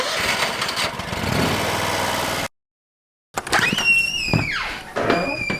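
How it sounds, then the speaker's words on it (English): A lawn mower engine runs steadily up close on an overgrown yard being mowed at night, with a brief cut in the middle before the engine roars on, pitch shifting as it works. "Yeah, I should probably mow it."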